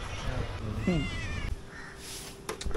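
A cat meows once clearly, a short rising-falling cry amid faint background noise and muffled sounds.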